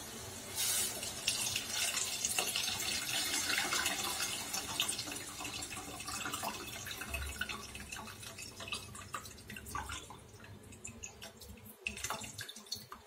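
Water runs and splashes steadily over tamarind being strained for pepper rasam, a continuous close trickle and drip in a home kitchen, heard alone without talk.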